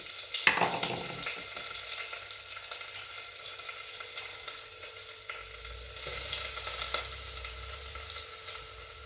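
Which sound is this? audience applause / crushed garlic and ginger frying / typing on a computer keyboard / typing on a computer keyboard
crushed garlic and ginger frying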